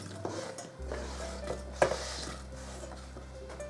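Thin apple slices go into a saucepan with soft, close clinks and scrapes of metal and light knocks, quiet and scattered over a low steady hum.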